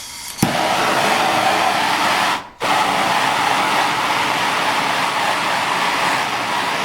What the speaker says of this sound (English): I prefer a torch because it's what I have on hand.